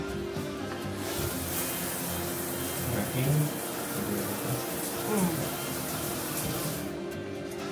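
A brand-new bathroom shower runs with a steady broadband hiss of spraying water, close and continuous, while people talk briefly over it.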